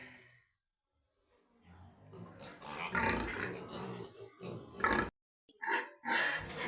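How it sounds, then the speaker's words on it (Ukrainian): Piglets make quiet, low grunts and snuffling noises in short bursts with pauses between them, fairly close by. "Ось так виглядають наші поросятка"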